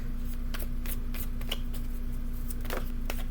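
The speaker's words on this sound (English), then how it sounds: "We're going to shuffle the cards." Tarot cards are shuffled by hand in steady, close riffling bursts over a constant background hum, with no talking.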